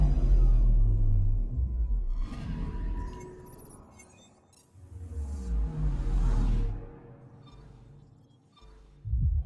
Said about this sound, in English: It's a big storm on that planet